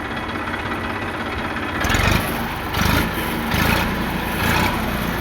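A 2016 Massey Ferguson 1035 tractor, 39 horsepower, idles close by with a steady mid-range engine rumble and a few brief surges in loudness. No one speaks.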